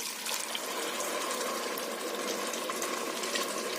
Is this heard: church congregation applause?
no